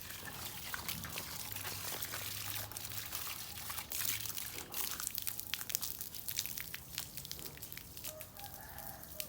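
A garden hose sprays water over plants in the cool evening, giving a steady, fairly loud hiss throughout, while chickens cluck and a rooster calls faintly in the background.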